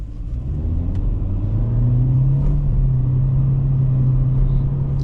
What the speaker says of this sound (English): all of that engine screaming got us to just above 50 kilometers an hour